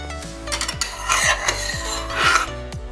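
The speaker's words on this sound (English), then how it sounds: "I'm going to go ahead and give him a little stir" A spoon stirs Jamaican pot roast pork in coconut milk sauce inside a metal pot, giving close rasping scrapes and rubbing knocks in a short, steady back-and-forth run.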